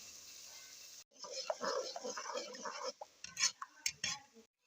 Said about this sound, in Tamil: தக்காளி இதில் சேர்த்தாச்சு ஒரு அஞ்சு நிமிஷம் நல்லா நெய்யில் வதக்கலாம்